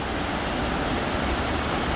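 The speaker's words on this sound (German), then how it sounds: "Jetzt ist es ein stattlicher Bach geworden." A sizable mountain brook in the Jura near Sainte-Croix rushes steadily close by, a dense, even roar of flowing water with no voices.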